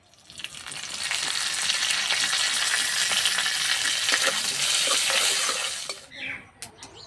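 Whole mustard seeds and curry leaves dropped into hot mustard oil in a kadai crackle and sizzle loudly for several seconds, then the noise cuts off into a few faint clinks.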